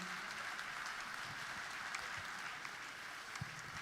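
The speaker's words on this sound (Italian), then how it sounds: "lo facciamo un applauso a questa orchestra fantastica" Faint, distant applause from an audience for an orchestra at a Christmas music broadcast, a soft continuous wash of clapping heard from far off.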